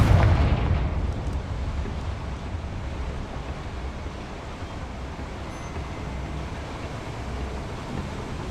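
A Confringo spell bursts in the video game Hogwarts Legacy with a loud, close explosive boom that fades into a long rumbling roar and hiss.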